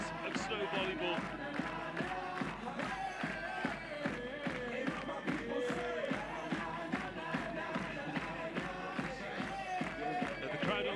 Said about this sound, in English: And the crowd on their feet once again, clapping their hands, stamping their feet and creating a marvellous atmosphere